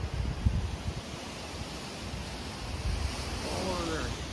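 Strong wind from Category 4 Hurricane Ian roars steadily around trees and palms in Port Charlotte, Florida, a broad continuous rush with gusts swelling beneath a faint voice.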